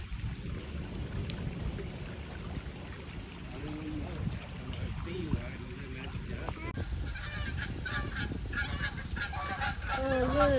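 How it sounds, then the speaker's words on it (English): Geese or ducks honk a few times at mid distance beside flowing water, over a steady rush of water and light wind noise outdoors. "Oh, look, the ducks."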